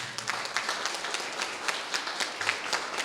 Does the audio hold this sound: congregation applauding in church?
yes